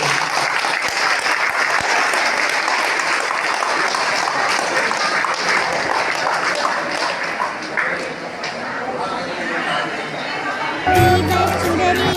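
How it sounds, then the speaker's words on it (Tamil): Sustained crowd applause at a Tamil Ayya Vaikundar religious gathering honouring a student's high exam marks, steady and loud for about eleven seconds, with some chatter mixed in before music takes over at the end. "இப்பொழுது கரகோஷம் இருக்குமாறு கேட்டுக்கொள்கிறோம்"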